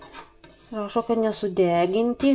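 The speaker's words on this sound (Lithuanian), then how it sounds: "Tai aš taip intensyviai ir makaluoju ant sausos keptuvės" Sesame seeds are stirred in a dry frying pan, with light scraping and clinking of a utensil against the pan under a person speaking throughout.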